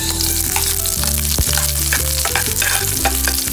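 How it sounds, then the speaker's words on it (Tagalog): Garlic and onion sautéing for spicy litob: loud, dense sizzling close by with steady stirring and a low background hum throughout. "mag-gisa na tayo mga karaki. Bawang. Sibuyas."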